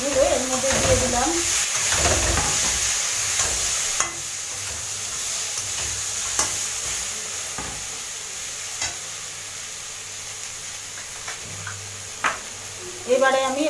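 Fish frying in hot oil in a pan, a steady sizzle with occasional scraping stirs and clinks of the utensil, continuing under a quiet background.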